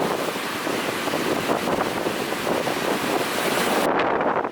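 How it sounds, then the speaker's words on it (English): Strong, steady wind on a coastal hiking trail in Western Australia roars and buffets the microphone throughout, a dense continuous rush with surf-like texture and no voices. "With all this wind, I feel like a bit of a tractor, like leaning forward, plowing into it."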